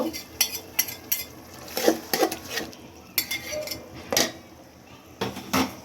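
A spoon clinks and scrapes in a pot as ginger garlic paste goes into oil with browned onions, giving a series of sharp metallic knocks over a soft background sizzle.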